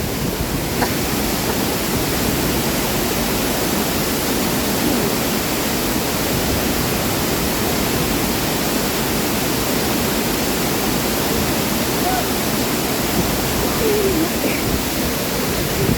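A hidden waterfall at Savane roars as a steady, dense wash of falling water, loud and unbroken from start to finish with no voices.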